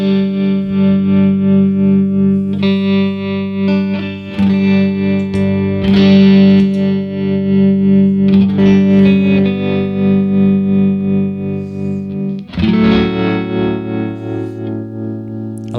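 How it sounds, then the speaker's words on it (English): Distorted electric guitar through a tremolo effect pedal, sustained chords pulsing in a steady rhythmic throb, with several chord changes, loud and close with no talk. "it can do the normal tremolo sound"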